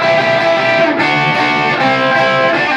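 A distorted electric guitar plays a short, loud, sustained phrase from a rock guitar solo in fifth position, with notes bending and blending together and no voice over it.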